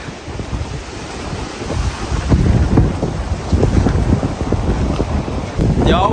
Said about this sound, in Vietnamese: Gió quá là gió luôn.